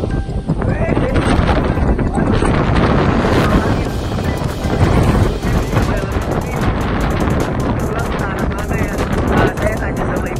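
Gusting wind outdoors in Korea pounds a microphone with loud, dense rumbling and flutter that goes on steadily throughout.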